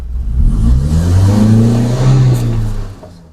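A car's engine revs up as the driver presses the gas during a driving lesson, one loud, close, rising roar that holds for a few seconds and then eases off, with no talking.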